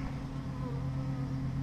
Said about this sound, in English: the guard bees are out after me again